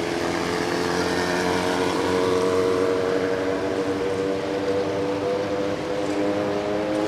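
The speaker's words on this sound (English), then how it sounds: "It must be a motorcycle show or something." Steady, continuous drone of motorcycle engines idling and revving at a motorcycle show, with layered harmonic hum running loud and unbroken throughout, no talking.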